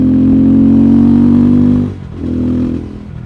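Older 373cc KTM 390 Adventure single-cylinder motorcycle being ridden, a loud close steady engine drone that drops off briefly near the end, then returns more softly as throttle eases.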